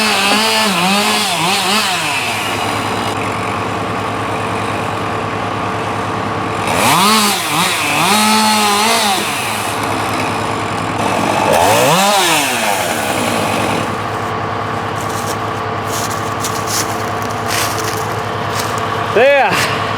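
A chainsaw limbing felled trees for firewood runs at a steady idle, rising into three distinct revving cuts spaced several seconds apart, loud and close, with a brief clatter near the end.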